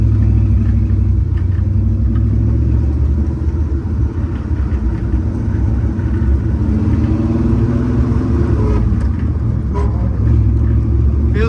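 Interior of a 1972 Ford Bronco on a neighborhood road test, a loud, heavy engine rumble and drivetrain drone that swells and eases through gear changes for over ten seconds, with no talk over it.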